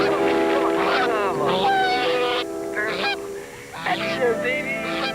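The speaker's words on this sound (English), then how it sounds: "Hey, Goose, come on, come on" A goose honks repeatedly in loud, close, harmonic calls, mixed with a voice urging it on.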